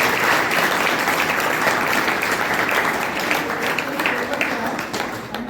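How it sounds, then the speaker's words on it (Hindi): A school audience at an awareness talk in Bhiwani claps for itself in sustained, dense applause from many hands, loud and continuous before fading slightly at the end, with voices mixed in. "तो एक बार ताली जाओ अपने लिए।"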